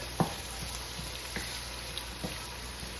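Corned beef hash with golden potatoes sizzles quietly in a pan, a soft steady frying hiss broken by a few faint pops and clicks.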